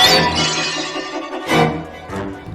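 Glass shatters loudly in a 1980 Friday the 13th horror film, with a sustained crash and tinkling debris followed by two more bursts of breaking glass within a few seconds.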